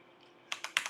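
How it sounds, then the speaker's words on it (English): Several crisp keyboard key clicks in quick succession, close up, following a quiet stretch with no talking. "You can hear me just copying that with my keyboard."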